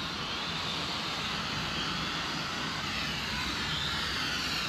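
A non-GPS camera drone flies outdoors in light wind, giving off a steady, unbroken whirring buzz at an even level throughout, with no voices.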